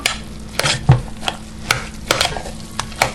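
Grated onion is stirred into KFC-style coleslaw, a series of wet, squishy mixing strokes with soft spoon clicks against the bowl, about a dozen irregular pulses close up with no talking.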